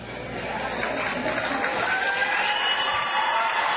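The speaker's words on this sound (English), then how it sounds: "hand clapping is not appropriate at this time or at any time during the hearing" A crowd at a legislative hearing on a California bill claps, with a steady dense patter of hands and some murmuring underneath throughout.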